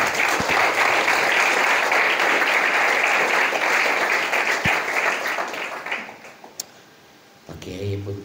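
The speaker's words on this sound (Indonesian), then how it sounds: "tepuk tangan untuk kita semuanya" A crowd of students and teachers at an Indonesian Islamic boarding school bursts into sustained applause that fades after several seconds, then a voice starts speaking.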